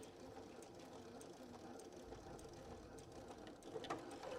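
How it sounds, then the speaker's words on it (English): A sewing machine back stitching a tote bag seam with French seams, running in a steady, low mechanical whir with a fine rapid needle chatter, close and fairly quiet, no talking. "turn it around here. And I'm going to do a back stitch."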